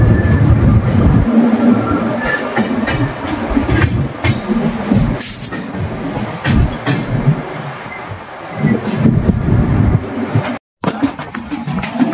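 The Sindhudurg Express train moving on a monsoon Mumbai to Ratnagiri run, a loud, close rumble with rhythmic rail clatter and scattered metallic knocks and rattles, briefly cutting out near the end.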